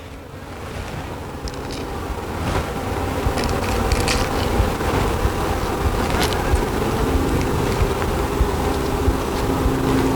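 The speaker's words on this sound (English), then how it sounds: "These little bees up here." A steady, droning buzz of honeybees fills the air, continuous and fairly loud, with scattered small clicks and rustles over it.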